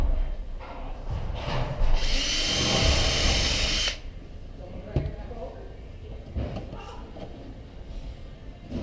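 A power drill drives drywall anchors into a wall while a dryer vent is installed, with a loud whirring burst lasting about two seconds, then quieter handling noises and scraping while a person talks.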